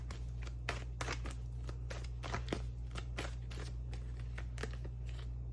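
Tarot cards are shuffled in quick, repeated papery riffles and snaps over a steady low hum, close and fairly quiet.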